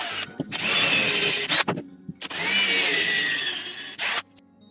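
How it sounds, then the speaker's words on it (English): A power drill bores holes in a Boba Fett costume gauntlet in two loud, close bursts of whirring, each about a second and a half long, separated by brief pauses and ending with a short final whir. "Let's drill some holes."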